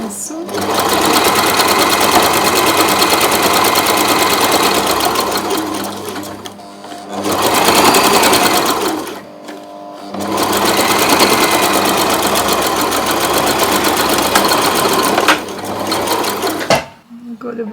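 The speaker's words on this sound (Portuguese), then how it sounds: "Também é uma costura de mais ou menos 1 centímetro." A sewing machine sews a straight seam about a centimetre wide on a fabric bag, rattling loud and close in two long continuous runs separated by brief pauses.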